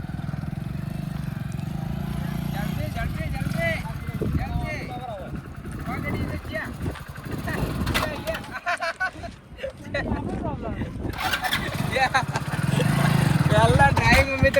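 A motorcycle ridden in an RTO-style driving test challenge drones nearby, its engine humming steadily at the start, fading and surging as it moves, then rising loud again at the end, with people talking over it.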